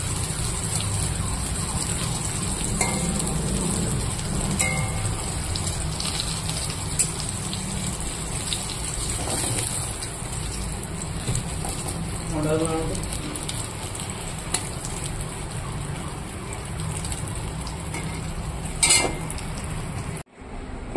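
Pointed gourd (potol) frying in a pan, a steady hissing sizzle like rain that carries on throughout, with a voice talking over it.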